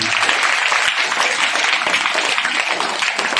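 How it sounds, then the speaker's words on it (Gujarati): A crowd of audience members applauds steadily to welcome a young girl about to show her talent, dense clapping filling the whole stretch at even loudness. "બાલિકા માટે આપણે સરસ મજાની પહેલા તાળીઓથી શરૂઆત કરીએ"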